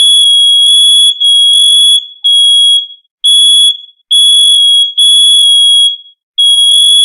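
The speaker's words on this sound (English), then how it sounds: "There's the damn detector going off." Smoke detector going off indoors: loud, piercing electronic pulses in repeating bursts with short gaps, dominating everything, and a faint voice in the background.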